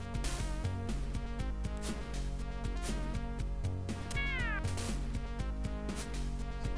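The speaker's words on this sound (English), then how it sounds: "It's a cat. I'm willing to bet it's a bad cat." A cat meows in the Sega Genesis game Michael Jackson's Moonwalker, a short synthesized cry partly buried in busy, rhythmic chiptune music that plays loudly the whole time.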